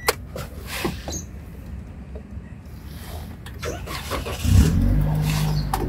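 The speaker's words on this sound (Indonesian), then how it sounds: "Yuk, kita sambil nyalain mobil ya." A 2017 Daihatsu Sigra with a 1.2-litre automatic turns over and starts, its engine settling into a steady idle after some quieter handling noises. No one speaks.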